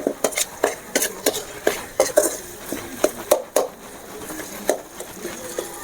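Chopped tomatoes being stirred in a cooking pan for a bar-style squid fry. Repeated sharp clacks of a utensil against the pan come in an uneven rhythm over a faint background sizzle.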